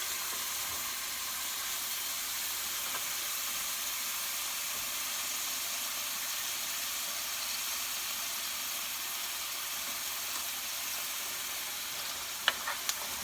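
Steady sizzling of chicken frying in a pan, a constant hiss with no talking, and a couple of small clicks near the end.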